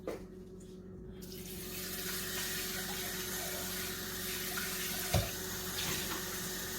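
Kitchen tap water runs steadily into a sink while a measuring cup is rinsed out, a continuous close rushing flow with a brief clunk of the cup partway through.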